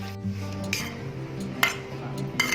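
Watermelon is stirred in sugar syrup in a cooking pan. Sporadic metallic clinks and scrapes of a utensil against the pan sound close by, over a steady low tonal hum.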